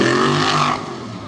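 A tough truck's engine revs loud and close during a monster truck freestyle run on a tough truck course, with a sustained roaring growl that eases off toward the end.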